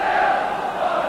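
A stadium crowd at a third division football match roars in a steady, dense wall of noise, loud and continuous for the whole moment with no single voice standing out.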